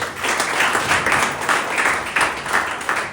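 An audience at a Marathi business plan presentation claps steadily, a dense continuous round of applause from a crowd, fairly loud and close, with no talking over it.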